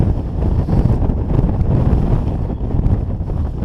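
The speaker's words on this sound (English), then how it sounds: "It's a really icy cold wind today." Freezing wind gusts across a high Lake District fell near Blencathra, a loud, unbroken rushing roar that buffets the microphone throughout, with no one speaking.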